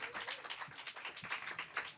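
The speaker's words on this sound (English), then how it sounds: "Keep applauding, guys, everybody." Audience applause for the BAFTA Outstanding Debut award, dense steady clapping from a crowd, loud and continuous for the whole stretch with no clear talk over it.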